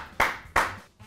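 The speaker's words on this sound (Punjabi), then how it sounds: "ਸੋ ਤਾਲੀਆਂ ਦੀ ਆਵਾਜ਼ ਗੂੰਜਣੀ ਚਾਹੀਦੀ" Two sharp hand claps about a third of a second apart, close and fairly loud, followed by a fainter third clap, with no talk.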